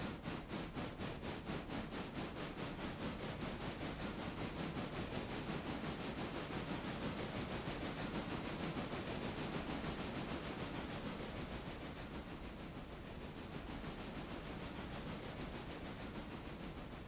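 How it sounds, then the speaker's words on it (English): Passenger train in the railroad simulation game Railroader pulling away, a continuous rushing, hissing rumble with a rapid rhythmic chuff that softens slightly toward the end, no voices. "Off goes the passenger train."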